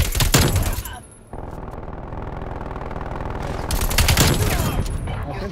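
A sentry gun turret fires in a video game, loud rapid bursts at the start and end with steady mechanical whirring between them, and voices talk over it.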